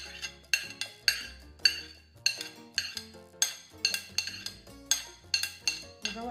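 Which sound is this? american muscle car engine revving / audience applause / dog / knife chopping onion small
knife chopping onion small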